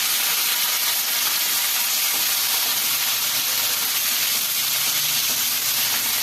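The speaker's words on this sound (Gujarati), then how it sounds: "એને પણ આપણે ફ્રાય કરવાનું" Tomatoes and onion fry in a pan for kadai paneer, giving a loud, steady, close sizzle and hiss that runs unbroken throughout with no speech.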